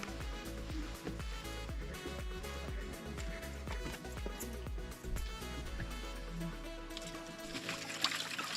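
Spring water at Tiger Spring in Mahabaleshwar trickles and splashes steadily as it is poured into a bottle, a close, continuous liquid sound layered with a busy background hum and rising to a brighter gush near the end.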